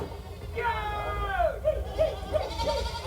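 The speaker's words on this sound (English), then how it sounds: "Just let the goats out." Goats with horns bleat in a series of wavering, rising calls, a long cry followed by several shorter bleats, close and fairly loud over a low background rumble, with people talking nearby.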